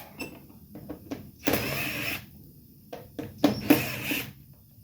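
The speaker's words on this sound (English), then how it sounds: "That's an electric impact, not an air impact I'm using." An electric impact wrench works on a Ryobi 18 volt electric push mower, firing two loud, close bursts of about half a second each between quieter clicks and handling noises.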